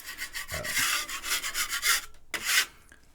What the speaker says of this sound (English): Usually I would say don't use a metal tool on plaster because the plaster's soft and the metal tool will gouge it.